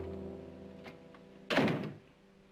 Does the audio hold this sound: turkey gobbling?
no